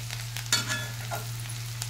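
Potatoes fry in a pan with a soft, steady sizzle and a few sharper crackles and stirring scrapes, fairly faint, over a low electrical hum and with no talking.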